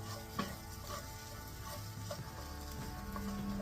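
Onions fry in a hot pan with no extra oil added for a lamb shank curry, giving a soft steady sizzle with faint stirring clicks and scrapes throughout.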